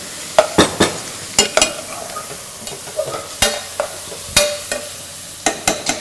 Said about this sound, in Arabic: بنحط فوق البصل تقلى طلعت ريحته